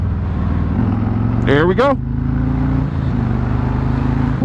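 A 2024 Harley-Davidson Road King Special motorcycle rumbles steadily up close, then its engine revs up sharply and briefly while being ridden. Someone speaks briefly over the engine noise.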